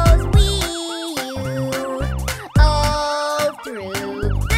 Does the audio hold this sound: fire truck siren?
yes